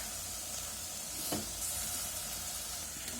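Eggplant and potato fry in hot oil for a dried-fish eggplant curry, making a steady, fairly quiet sizzle and hiss. A single soft stirring knock sounds midway.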